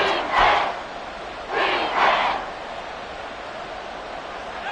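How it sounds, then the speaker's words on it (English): A stadium crowd at an American football game between the DFB Falcons and the Black Knights roars in two loud swells, a brief surge near the start and a longer one a second later, over steady crowd noise, with no talk. "This crowd doing all they can."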